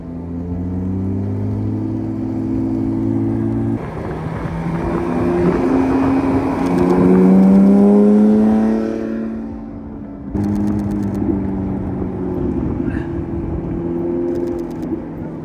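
A car engine grows louder as the vehicle approaches, roars past close by with a rising and falling pitch, then recedes, followed by another steady engine drone.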